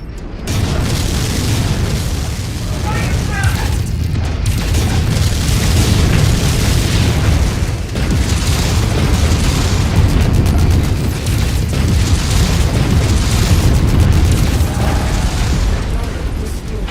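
Booming explosions from MechWarrior 5: Mercs, a mech combat game set in 3031, rumble continuously and loud over dense battle noise for the whole stretch, with bursts and heavy impacts stacked one after another.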